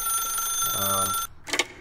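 Telephone ringing in The Stanley Parable video game: a bright electronic ring sustained for over a second, then a short second burst after a brief gap, fairly quiet.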